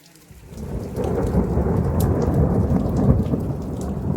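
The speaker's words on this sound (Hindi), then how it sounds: "बहुत ज़्यादा बारिश हो रही है" Heavy rain pours steadily in the mountains near Kullu, India, with a deep rumble of thunder rolling underneath, building and continuing throughout with no voices.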